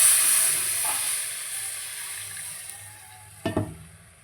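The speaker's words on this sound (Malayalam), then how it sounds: "നമുക്കൊരു ഇത്തിരി വെള്ളം ഒഴിച്ച് കൊടുക്കാം" A little water is poured into fried masala in a hot pan. A steaming hiss is loudest at first and slowly fades, broken by a brief clatter near the end; no voices.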